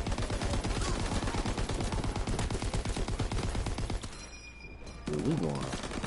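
Dense rapid gunfire in a World War II video game, a loud machine-gun-like rattle that stops abruptly near the end, followed by a brief burst of game sound.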